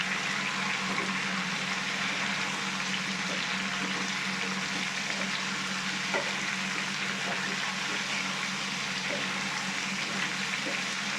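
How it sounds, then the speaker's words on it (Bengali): Pieces of raw mango fry in oil for a sour, spicy and sweet pickle, giving a steady, even sizzle with faint crackles throughout and no voices. "আমটা আমি তেলের সাথে ভেজে নিয়েছি"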